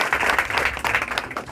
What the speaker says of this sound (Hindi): एक बार जोरदार ताली बजा दो यार